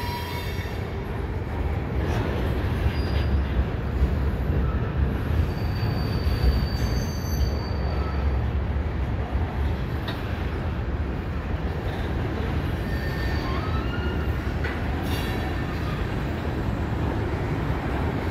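A CN freight train rolls past on the Butler Spur with a steady, loud rumble of railcars and wheels, plus faint intermittent squeals, sustained for the whole stretch with no talking.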